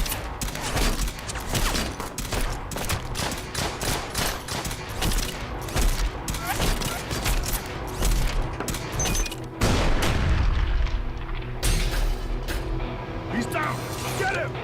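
Rifle fire and battle noise from the strategy game Dawn of War 2 rattle on continuously, with dense overlapping shots and a heavier boom near the middle, while a voice talks over it.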